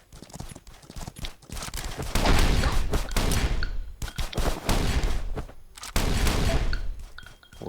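Gunfire in the survival shooter Last Island of Survival, bursts of rapid shots and fusillades coming in clustered volleys with short gaps, loud and close, with no talk over them.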